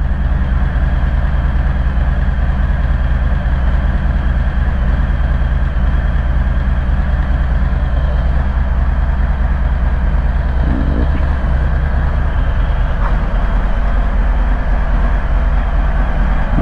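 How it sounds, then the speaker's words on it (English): A motorcycle engine idles steadily while it warms up before a ride, giving a continuous low rumble that stays loud and even throughout, with no voices. "Let the bike warm up."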